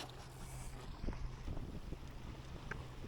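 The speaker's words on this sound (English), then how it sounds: "When it gets blowing, it's visceral. It's you and the wind and a little bit of danger." Steady wind buffets the microphone while out sailing on a small boat, a continuous rough rush with low hum and faint water movement underneath, no voices.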